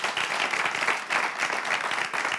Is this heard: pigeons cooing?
no